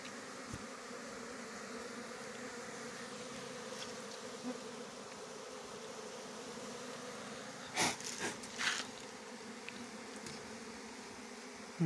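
Small honey bees buzzing steadily around a wild hive being cut down during honey hunting, a dense continuous drone up close, broken by a few brief rustling knocks near the end.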